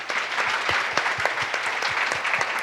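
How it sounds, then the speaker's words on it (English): An audience at a talk on Black women's mental health gives itself a round of applause, a steady, moderately loud wash of many hands clapping with distinct sharp claps rising throughout. "Can you give yourselves a round of applause for that?"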